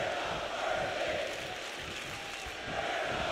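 Wrestling crowd at a WWE Backlash match between Cody Rhodes and AJ Styles, a steady roar of cheering and shouting that swells briefly, with a commentator's voice faintly under it.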